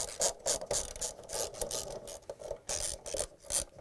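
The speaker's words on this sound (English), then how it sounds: "Six bolts, 10 millimeter size. We're going to use the socket wrench." Socket wrench ratcheting on 10 mm bolts holding the stator of a Samsung washer spider arm assembly: a series of close, rasping clicking bursts in quick irregular runs, with no talking.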